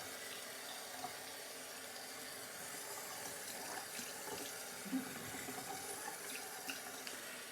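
A tap runs in a steady, quiet stream at a sink for washing during a shaving soap test, with small drips and clinks now and then.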